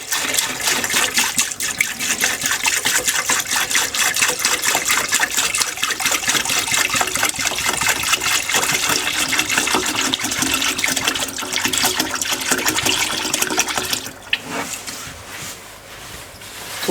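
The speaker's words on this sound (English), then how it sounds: "Now we're adding isopropyl alcohol." Isopropyl alcohol poured steadily into a container while restoring old Shimano Ultegra brake-shift levers, a continuous close liquid rush lasting about fourteen seconds before thinning to a softer trickle.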